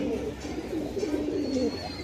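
Domestic pigeons cooing in a loft, a close, steady run of low throaty coos repeating across the whole stretch with no talk over them.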